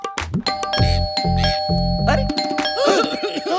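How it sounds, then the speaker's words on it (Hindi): A doorbell rings in a repeated ding-dong pattern at an Indian home's front door, loud and close over background music, with a man's brief exclamation near the end. "कोई घंटी बजा रहा है और तुम दरवाजा नहीं खोल रहे हो?"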